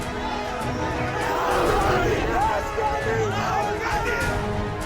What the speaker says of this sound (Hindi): कुछ छात्र जमीन पर बैठकर नारेबाजी कर रहे हैं।